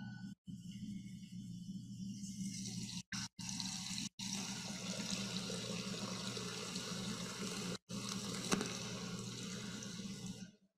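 Water pours into a baptismal font during an Episcopal church service, a continuous splashing stream running for about ten seconds with a few brief breaks.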